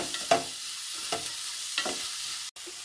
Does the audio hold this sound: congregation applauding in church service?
no